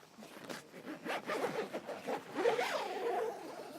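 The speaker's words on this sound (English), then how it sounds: "just sort of zip out, zip" Zip being pulled open on an awning panel of a Kampa Rally Air Pro, a run of quick ratcheting rasps over several seconds, close and fairly quiet, with no talk.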